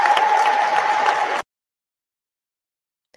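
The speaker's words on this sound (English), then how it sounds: "Let's give him a round of applause for expressing himself." Congregation applause in Holy Family Basilica Church, a dense burst of clapping that stops abruptly after about a second and a half, then near silence.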